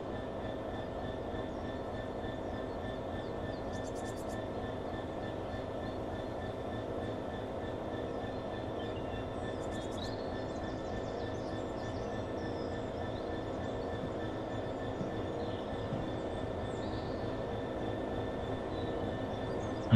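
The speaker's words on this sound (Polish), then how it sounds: "Ale długi ten pociąg. No chyba sama lokomotywa jedzie." Class 66 diesel locomotive running in the Train Sim World game, a steady low engine drone with rolling rail noise and a couple of faint high squeals, constant and moderately quiet throughout.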